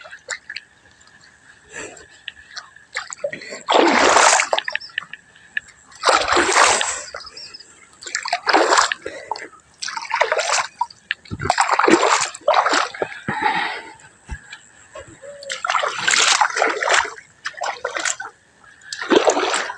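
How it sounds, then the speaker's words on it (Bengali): Water being splashed while washing muddy feet outdoors in a village field, repeated loud splashing bursts a few seconds apart with drips and quieter gaps between them, and a voice speaking now and then. "চলো পাগা ধুই।"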